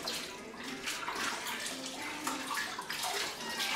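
Hot tap water runs steadily into a basin or bowl to keep risen bread dough warm while it proofs, a continuous close splashing flow with no talk over it.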